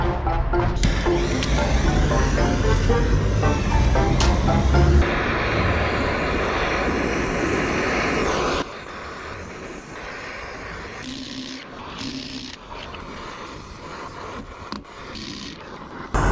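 A heat torch roars at close range on a stuck trailer part, loud and steady for several seconds, then drops to a lower hiss with scattered clicks and scrapes.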